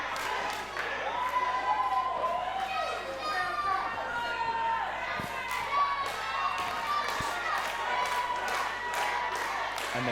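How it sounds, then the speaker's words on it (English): A crowd at an SOS Wrestling show chants for a wrestler as he is tagged into the ring, rhythmic cheering and clapping filling a hall at moderate distance, with a commentator talking over it. "the crowd here chanting for Jackson Arrow as he's tagged in"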